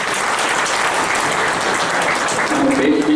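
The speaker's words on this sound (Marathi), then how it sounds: "त्यांच्याकरता एकदा जोरदार टाळ्या वाजवा" Loud, sustained applause from a Rotary club audience at a Pandharpur club event, a dense wash of clapping with no break across the whole stretch.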